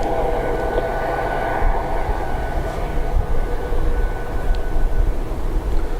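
At Dublin Airport, an Embraer jet bound for London City rolls out with a continuous, fairly loud rumbling roar and a thin tonal whine, steady throughout with occasional small surges and no speech.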